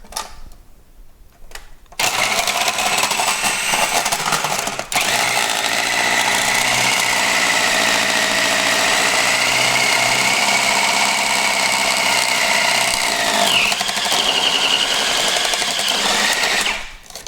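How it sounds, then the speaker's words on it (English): A Cuisinart food processor with its grating attachment grates soap for homemade powdered laundry detergent, running loud and steady with a whirring motor whine and a rough grinding rattle for about fifteen seconds. A brief quiet start comes before it, and a short pitch dip occurs near the end. "Cuisinart with the attachment that grates. So we're gonna put this in and hope for the best."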